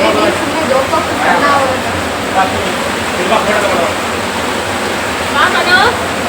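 Water flows steadily from a release, making a loud continuous rushing wash with muffled voices talking faintly underneath.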